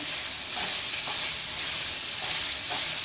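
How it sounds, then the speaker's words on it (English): Steady, loud sizzling of meat frying in a hot pan, a continuous crackling hiss with faint stirring scrapes, no talking. "we are frying up our meat"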